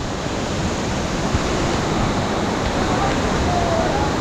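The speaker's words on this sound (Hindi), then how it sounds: "ये देखिए पूरा झरना।" Mountain waterfall on the Madmaheshwar trek in the Himalayas: a steady, loud, broadband roar of falling water, continuous and close, with no breaks.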